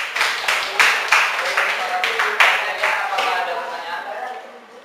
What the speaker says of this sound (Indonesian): Oke, tepuk tangan untuk Komik Indonesia